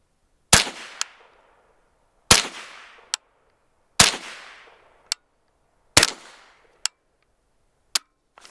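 Law Tactical ARIC rifle with a 6-inch barrel firing 300 Blackout rounds, five loud close shots spaced about two seconds apart, each followed by a sharp metallic clack, with no talking.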